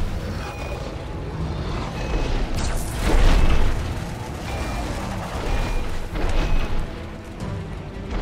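A deep, booming bomb explosion bursts in the middle of a Biomutant boss fight, followed by rumbling and smaller pops over a steady game soundscape.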